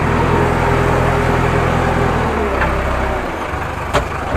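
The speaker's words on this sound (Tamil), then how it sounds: "இந்த குச்சி இடையில இருக்கிறதுனால வண்டி கொஞ்சம் திருப்பத்துக்கு சிரமமாக இருக்குது" A JCB 3DX backhoe loader drives and turns while digging pits for coconut trees, with a loud, close diesel rumble that eases off partway through and a brief knock near the end.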